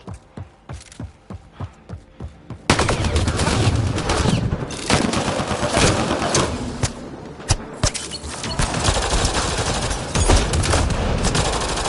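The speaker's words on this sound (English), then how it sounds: "now I'm shooting every spitbug I see" Gunfire in the Mass Effect Andromeda video game: a quick series of sharp single shots, then sustained loud rapid automatic fire with explosive bursts while spitbugs are being shot.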